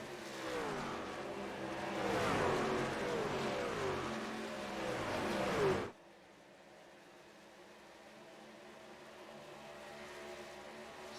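Race cars roaring around the track in an ECRS truck series race, a loud engine drone with rising and falling pitch as vehicles pass, cutting off abruptly to faint distant background noise.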